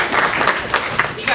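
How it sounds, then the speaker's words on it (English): A school audience breaks into brief applause for a band student, a short burst of dense clapping in a room, loud and close, lasting barely over a second. "Give him a round of applause."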